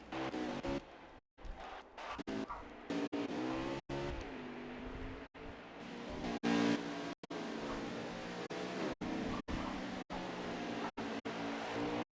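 Onboard engine of the number 20 race car at the Charlotte Roval in a sim racing video game: a loud, continuous high-revving drone with repeated sharp cuts and pitch drops as it shifts and brakes through corners.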